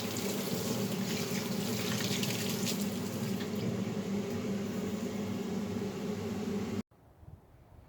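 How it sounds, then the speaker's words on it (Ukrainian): Steady rushing of running tap water with faint clinks of dishes, continuous and close, then cutting off abruptly near the end into quiet room tone. "Мию посуд."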